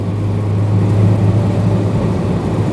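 Early Peugeot 504 pickup with its rare petrol engine accelerating up to fifty miles an hour, a steady, busy mid-pitched drone with a strong low hum, loud and continuous from start to finish with no talking over it.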